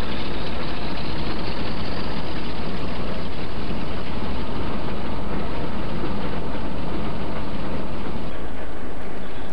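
Western class diesel locomotive D1010 on the West Somerset Railway idles with a steady, loud, broadband engine rumble and hiss that holds evenly throughout with no voices.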